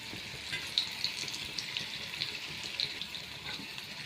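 Potatoes frying in a pan, a faint steady hiss of oil with light crackling pops, heard close and alone at low volume.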